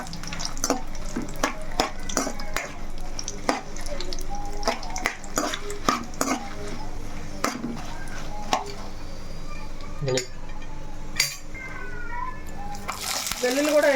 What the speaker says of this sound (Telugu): ఇలా మనం ఎండుమిరకాయలు దోరగా వేపుకోవాలండి. ఇలా కలుపుతూనే వేపుకోవాలి,